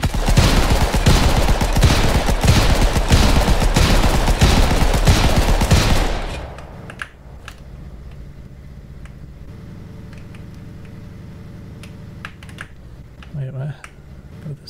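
Rapid, dense bursts of tank cannon fire in a video game called Tank Game, a fast rattling barrage lasting several seconds before cutting off, then quieter game sounds and a voice talking.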